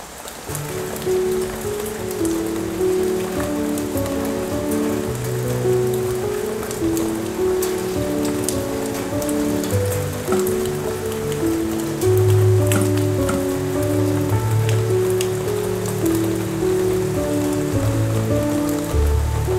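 Rain falls steadily outside an open window, a dense continuous patter of drops on surfaces with faint scattered taps, close and even throughout with no talking.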